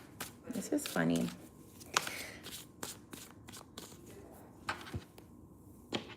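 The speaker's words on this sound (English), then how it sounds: "You see me shuffling my cards," Tarot cards shuffled by hand come through as soft riffling bursts and scattered taps, up close. A voice murmurs briefly near the start.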